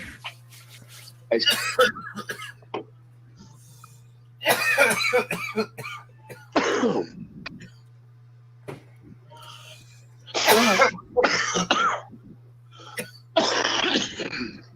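Several people cough in repeated bursts during a casual Sunday session, harsh fits clustering and pausing with quieter moments between, over a low steady hum.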